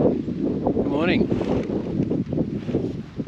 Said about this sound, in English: it was quite windy all night, and it still is